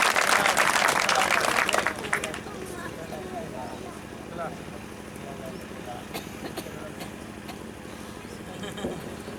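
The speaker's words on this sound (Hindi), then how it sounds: "एक बार जोरदार ताली बजाएं" A seated audience at a Hindi poetry recital gives loud, dense applause for a young poet, then the clapping thins into scattered claps beneath a host's voice.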